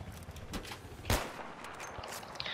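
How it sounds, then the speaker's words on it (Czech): Gunfire in the video game Battlefield 3, a single loud shot burst near the middle standing out over a dense, noisy battle background of scattered distant shots, with no talk. "Já jsem pod palbou"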